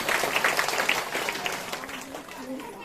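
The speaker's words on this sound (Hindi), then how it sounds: "इसलिए प्रभु यीशु के ताली बजा के परमेश्वर की महिमा करें।" A church congregation claps in praise during a prayer ministry testimony service, a dense burst of hand claps with voices mixed in, fairly close and steady throughout.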